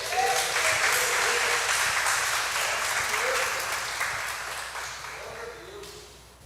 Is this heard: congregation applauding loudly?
yes